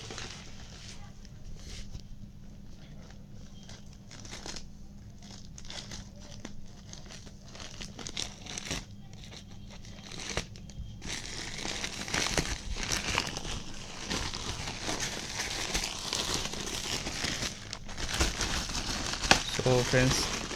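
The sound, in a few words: unpacking Logitech F310 gamepad packaging, crinkling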